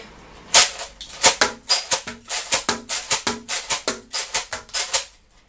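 Nerf N-Strike Alpha Trooper foam blaster slam-fired in a rapid string of about fifteen sharp, snappy clacks with a quick, slightly uneven rhythm, close and loud with no talking.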